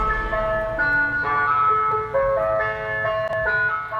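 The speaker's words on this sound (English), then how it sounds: "could this sound of the summer soon be scrapped? The council wanting to ban ice cream vans." An ice cream van chimes its jingle on a UK street, a bright electronic melody playing continuously and fairly loud with engine rumble beneath, no voices.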